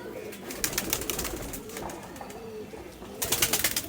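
Imported Magnet-line pigeon chicks coo and stir in a loft, low soft coos repeating under rustling and scattered wing flutters, fairly close.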